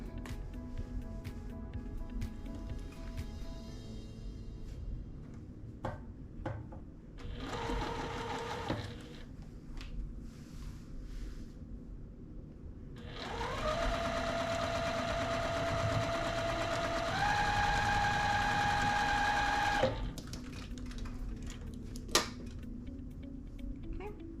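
A sewing machine stitches quilt pieces together in two bursts, a short one and then a longer steady whir that shifts pitch partway through, with quiet pauses around them.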